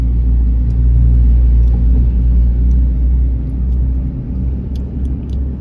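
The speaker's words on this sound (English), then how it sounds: "Look at the traffic downstairs." Road traffic below the Dhaka Elevated Expressway rolls past as a heavy, continuous low rumble of engines, with faint high clicks and rattles scattered over the steady drone.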